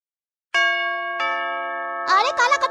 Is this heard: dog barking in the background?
no